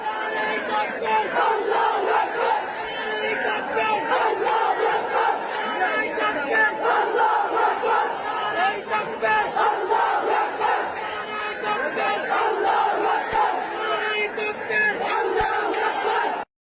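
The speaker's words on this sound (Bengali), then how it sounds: "নারায়ে তাকবীর, আল্লাহু আকবার। ম্যাচ শেষে গ্যালারি থেকে এই একটা ধ্বনি ভেসে আসছিল" A stadium crowd chants Nara-e-Takbir, Allahu Akbar after a match: many loud voices roar together in a continuous mass chant.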